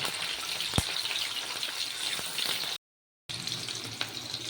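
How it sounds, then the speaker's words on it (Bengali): Steady crackling sizzle of chopped onions frying in hot oil, continuous and close, with a brief clink near the start and a short gap of silence. "এবার কুচি করে রাখা পেঁয়াজটা দিয়ে দেবো দিয়ে দিলাম পেঁয়াজটাকে একটু ভেজে নেবো"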